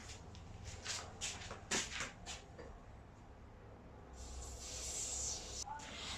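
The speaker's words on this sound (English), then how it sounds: "So I'm going to spray that out now." CRC cleaner sprayed through a Holden 202 engine lifter, faint hissing jets in short bursts followed by a longer steady spray, with light clicks and handling noises.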